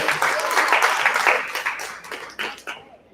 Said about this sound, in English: Clap it up, we're here together